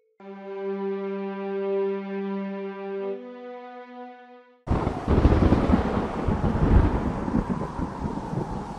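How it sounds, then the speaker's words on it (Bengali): A cartoon thunderstorm breaks with a sudden heavy rumble of thunder and wind-driven noise. It follows a sustained tonal music-like hum and continues loud and rolling to the end. "আকাশের অবস্থা তো ভালো না, ঝড় হচ্ছে।"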